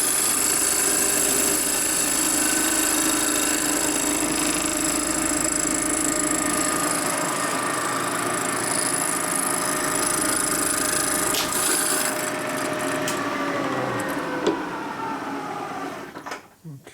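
A cutter grinds into the port of a 1948 Harley-Davidson panhead 74ci cylinder head, giving a continuous close rasping, whining cut that changes pitch and dies away near the end, with talk mixed in.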